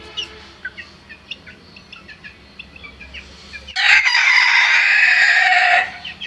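Young naked-neck chickens peep and cluck softly in short, scattered calls, then a loud, sustained rooster-like crow bursts in close by for about two seconds before the soft chirps return.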